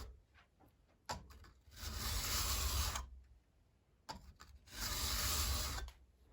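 A card scraper is sharpened with two long file strokes, each a loud, steady metallic rasp lasting about a second, separated by brief handling clicks and quiet pauses, heard close and alone.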